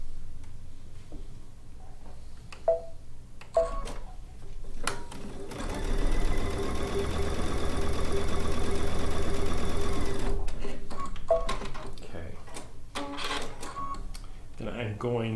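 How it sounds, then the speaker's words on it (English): A sewing machine stitches a quarter-inch quilting seam in one steady, loud whirring run of about four seconds, framed by clicks and handling noises, with a person talking before and after. "I'm going to sew that one on."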